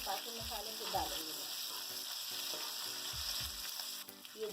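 Cumin seeds sizzling and crackling in hot oil for a dhaba-style baingan bharta, a steady quiet fry with soft stirring knocks, and a voice speaking faintly in the background.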